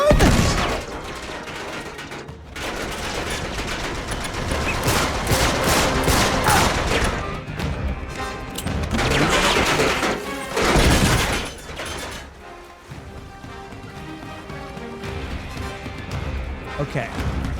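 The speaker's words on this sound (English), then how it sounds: "They have an anti-aircraft gun?" Anti-aircraft gun in Uncharted 3 pounding out heavy repeated bursts of fire, loud and close, swelling and fading in waves alongside crashes and game noise, with a voice speaking over parts of it.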